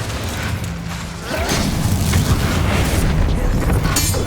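A loud, close fire blast from the Incendio spell in Hogwarts Legacy, starting with a rumbling whoosh that swells into a sustained roaring boom with crackling bursts, filling the whole stretch.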